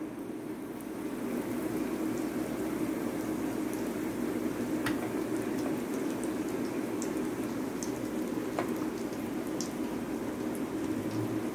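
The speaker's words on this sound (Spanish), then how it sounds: "Y la freímos." A breaded milanesa cutlet frying in hot oil gives a steady, even sizzle with scattered small pops and crackles, heard close and alone without talk.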